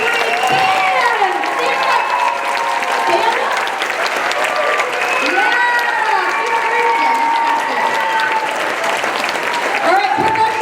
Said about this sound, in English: let's have one more round of applause for our 5th grade band